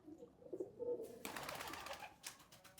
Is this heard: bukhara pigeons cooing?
yes